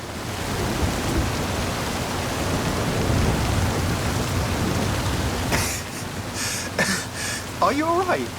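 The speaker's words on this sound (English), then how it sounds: "The storms can be bad, but the ancient peoples of this region knew the value of the rain." Steady rain and rumbling thunderstorm noise fill the scene in the video game Forza Horizon 5, broad and constant, then thin out as voices begin speaking near the end.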